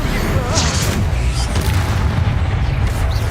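Blasting-spell explosion in the Hogwarts Legacy video game: a loud, dense rumbling boom with crackling debris that fills the whole moment, heavy low-end roar throughout, with brief game voice sounds mixed in.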